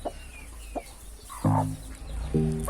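A hen gives a couple of low, rhythmic clucks nearby while faint high peeps from chicks flicker in the background.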